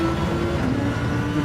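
A Lamborghini Huracan GT3 race car with a V10 engine roars from on board at Monza, a loud, sustained, dense engine drone that holds steady with a slight shift in pitch.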